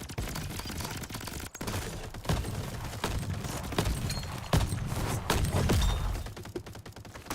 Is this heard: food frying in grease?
no